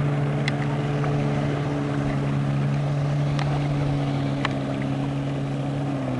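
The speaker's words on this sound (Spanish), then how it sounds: "Allá va un barquito o una lancha." A motorboat runs steadily on the Colorado River, its engine a continuous mid-distance drone with faint wind across the microphone and a few small clicks, no talk.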